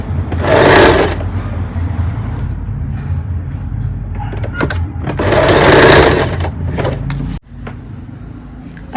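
Sewing machine running in bursts while stitching gathers into fabric for a peplum top, a loud close motor whir with two strong runs separated by lighter stitching, ending abruptly.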